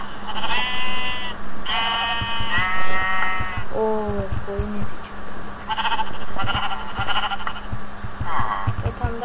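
Several sheep bleat in the video game Minecraft, a run of loud, wavering calls at close range, some overlapping, with soft game footsteps and clicks between them.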